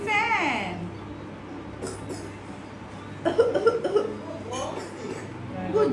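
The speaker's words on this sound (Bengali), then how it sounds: "মুখে হাত দিয়ে কাশতে হয়" A small child coughs a few times at close range, with short bursts near the start and middle, mixed with soft talking nearby.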